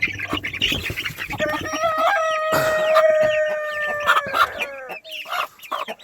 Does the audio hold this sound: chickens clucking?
yes